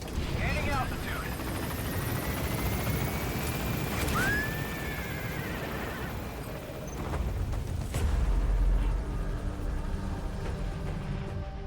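Helicopter taking off in a video game, a steady low rotor rumble and engine drone that swells as it lifts, with brief electronic tones and a voice speaking over it.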